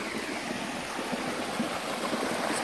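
Flowing stream water and waterfalls in Colorado Bend State Park, Texas, make a steady, close broadband rush and gurgle, continuous with no talk.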